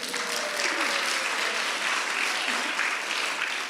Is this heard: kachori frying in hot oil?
no